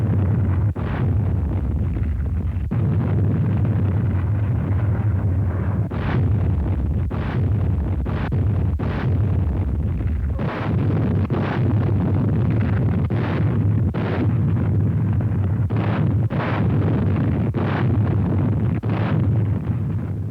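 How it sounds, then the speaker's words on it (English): Naval shelling of a target island before a WWII Pacific landing: a continuous wind-blown rumble broken by a long series of sharp, distant blasts, about a dozen spaced irregularly, with no voices. "The Navy shelled the target island of Beisho on D-Day morning for only 3 hours before the landing."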